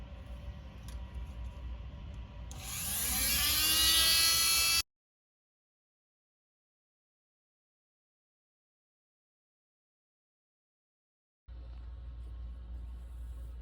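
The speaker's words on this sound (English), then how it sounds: "now we're going to start dremeling on this thing, the ultimate gunsmith tool, the Dremel" A Dremel rotary tool grinding on a Micro Draco pistol gives a brief, rising high-pitched whine that swells louder for about two seconds, then cuts to silence before low background noise returns.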